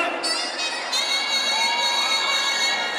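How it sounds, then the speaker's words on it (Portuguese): A live crowd at a funk show in Guarujá screams and cheers continuously, a dense high-pitched roar that swells loudly and holds without pause. "agora eu quero ouvir o gritinho da louquinha"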